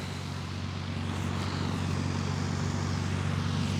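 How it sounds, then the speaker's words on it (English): A large tractor engine running close by on a North Carolina disc golf course, a loud steady low droning hum that holds without a break. "There's a large tractor right next to me."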